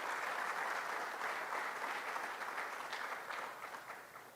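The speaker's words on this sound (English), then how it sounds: "Give them a round of applause." Applause from a large crowd at a religious gathering marking Albinism Awareness Day, steady dense clapping that slowly fades over a few seconds.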